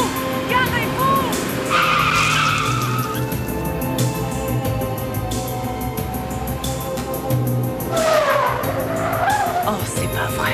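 A car driven wildly in a French-dubbed film scene, tires skidding and squealing in loud sweeping bursts over a steady engine roar, while frightened voices shout throughout.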